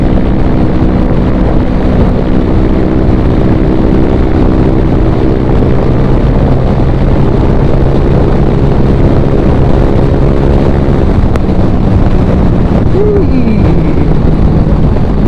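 A Honda Click 125 scooter fitted with a Replica Pro exhaust drones at full throttle, a loud, continuous buzzing hum buffeted by heavy wind noise on the move.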